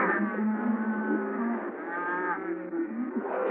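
A cow moos in a Western comedy scene, one long, loud, drawn-out bellow close by with a wavering pitch and no talk.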